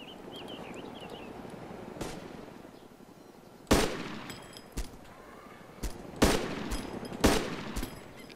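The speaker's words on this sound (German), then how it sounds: "Ah, jetzt habe ich Schüsse." Gunshots in the video game DayZ Origins: several sharp, loud reports crack out one by one at irregular intervals, some close together, over a quiet background with faint distant pops.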